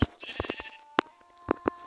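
A Minecraft sheep bleats in a short burst, mixed with sharp hit and click sounds from the game as the player attacks it. Brief gasps and murmurs come from the player.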